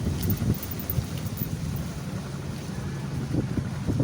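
Steady low rumbling wind buffets the microphone, with occasional stronger gusts swelling throughout.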